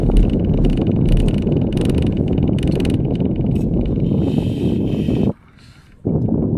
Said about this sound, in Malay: Bunyi angin kuat sangatlah bos. Bunyi angin kuat kan. Tak ada siapa beritahu pun tadi. Bunyi aircon ni.